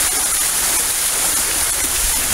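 Indoor waterfall in a lush tropical conservatory, a loud and steady rushing wash of falling water that fills the space without a break, close by, with no voices.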